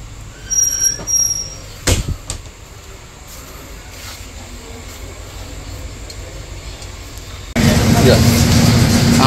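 The Shalimar to Patna Duronto Express pulls out of platform 2 at night, heard from inside a 3AC coach: a low rolling rumble with a sharp clank, a louder roar late on, and voices in the background.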